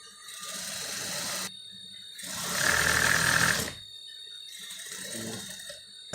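Sewing machine top stitching a seam on a princess-dart blouse, running in three steady bursts with brief pauses between, the middle run louder and faster.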